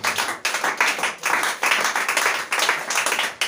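A church congregation claps in rhythm to acclaim Jesus, loud and close, with brisk steady applause broken by short pauses.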